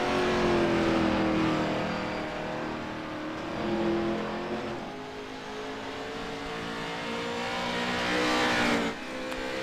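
Race cars in a league racing event drive through a corner, with a continuous loud engine drone that rises and falls in pitch as the cars accelerate and ease off, swelling near the end.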